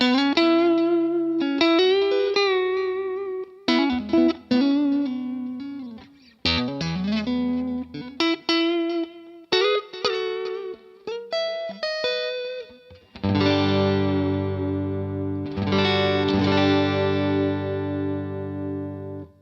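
Electric guitar, a Stratocaster on a warm, rounded neck-pickup tone, plays bluesy licks and bends, then rings out in sustained full chords with some reverb; no voices.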